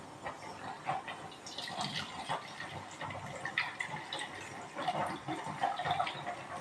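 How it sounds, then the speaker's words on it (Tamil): Tea being poured back and forth between two vessels to cool it, in a home kitchen during a morning routine; a steady splashing liquid stream with repeated pours, fairly close, with no talking. "ஆமாம், டீ ஆற்றலாம்."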